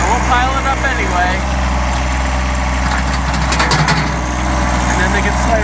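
A backhoe engine runs steadily at idle, close by, with a deep continuous drone that holds level throughout.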